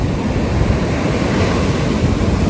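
Ocean surf rolls in steadily at a beach on the coast, loud and continuous with wind buffeting the microphone and no voices.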